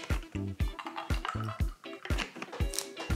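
Ice clinking against a glass as an Aperol Spritz with Aperol, prosecco and soda is stirred, a run of bright, rhythmic chinks and rattles close by with no talk.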